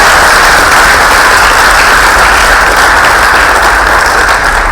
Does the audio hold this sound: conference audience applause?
yes